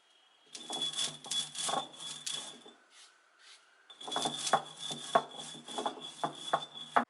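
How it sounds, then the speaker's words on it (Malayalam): Fenugreek seeds are ground in two long, harsh, rasping bursts with a short quiet gap between them. The grinding sounds close and gritty, with no voices. "ഇനി നമ്മളുടെ ഉലുവയും ഇതുപോലെ ഒന്ന് പൊടിച്ചെടുക്കാം"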